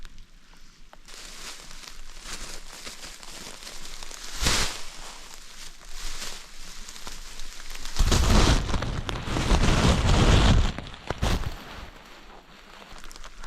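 Steady rain pours down on an outdoor fishing trip in the wild, a dense hiss that swells noticeably heavier for a few seconds midway before easing back to a constant patter; no voices.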